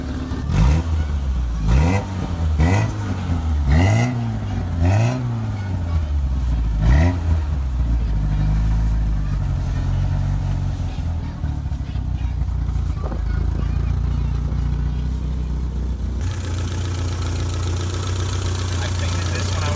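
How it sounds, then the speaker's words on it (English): A 1983 BMW E21 320i engine revs several times in quick rising-and-falling bursts, then settles into a steady idle, close by. "Hold on, give me a couple of revs."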